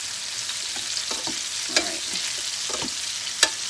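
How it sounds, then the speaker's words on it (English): Food sizzles and crackles in hot peanut oil nearby while making chicken fried rice, with a few sharp pops and stirring scrapes, steady and without talk. "now we're cooking with peanut oil"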